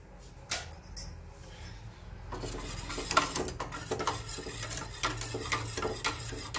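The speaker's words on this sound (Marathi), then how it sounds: "बेसन पीठ ताकामध्ये मी असं छान मिक्स करून घेतलंय" Gram flour (besan) being whisked into buttermilk in a bowl for Maharashtrian kadhi, a steady close scraping and swishing with light clinks of utensil against the bowl, continuing without talk.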